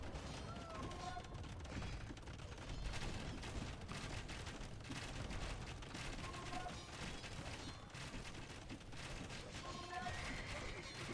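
Battle sounds from Age of Empires 2 on Xbox, with Genoese crossbows volleying and bombard cannons firing amid clashing mechanisms, a continuous dense rattle of shots under faint commentary.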